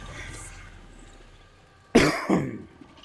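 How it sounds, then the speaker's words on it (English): Two sharp coughs close to the microphone, one right after the other, from someone recovering from a cough, standing out against quiet game background sound. "Hear that? My cough is finally getting better."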